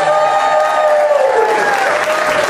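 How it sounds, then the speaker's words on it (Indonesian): An audience claps together in a sustained round of applause, loud and close, as a crowd cheers along. "tepuk tangan dulu buat kita semua"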